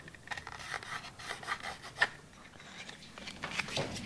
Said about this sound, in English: that's where you just use the file to knock it off